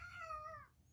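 A house cat gives one short, clear meow, close and alone, lasting under a second.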